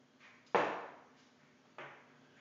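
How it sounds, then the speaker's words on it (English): Two short hissing spray bursts of Rem Oil lubricant onto a pistol barrel, the first stronger and fading over half a second, the second quieter, close and otherwise quiet. "spray down the outside of the barrel."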